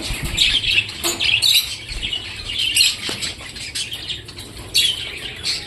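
Pied budgerigars chirp and chatter in repeated bright bursts close by, with wing flutters and scrabbling between calls.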